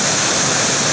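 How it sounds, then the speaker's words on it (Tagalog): A waterfall in Palawan roars as a loud, dense, unbroken rush of water close by, with no pauses or other sounds. "marami pa tayong iba't ibang waterfall sa masasaksihan dito"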